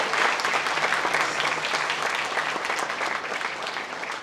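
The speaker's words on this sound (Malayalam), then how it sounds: "കയ്യടി കൊടുക്കാട്ടോ" Sustained applause from an audience at the Eravu film title and audio launch, welcoming two directors on stage, as dense clapping that stays strong and fades a little by the end.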